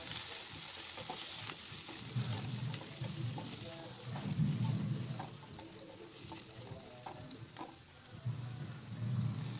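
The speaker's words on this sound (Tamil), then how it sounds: "இதையும் நல்லா வதக்கி விட்டுறலாம்." Handfuls of drumstick leaves (murungai keerai) sauté and sizzle in a hot pan, a steady close frying hiss with soft stirring scrapes, while a voice talks faintly underneath.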